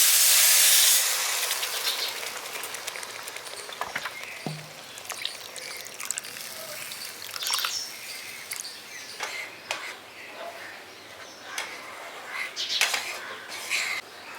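Water poured into semolina frying in a pan for village-style carrot suji halwa, giving a loud hiss and steam burst at first that settles into steady sizzling with scattered clinks of a utensil against the pan.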